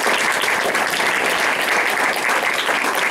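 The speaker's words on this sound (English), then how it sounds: "So can we just give them a whole round of applause again?" Audience at a training session delivers a full, steady round of applause, dense and loud, with no speech over it.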